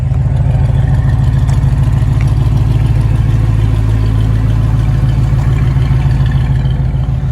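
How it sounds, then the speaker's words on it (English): A 1969 Camaro SS 350 V8 idles with a deep, steady exhaust rumble, loud and close, holding an even throb throughout with no speech. "Let's listen to the exhaust."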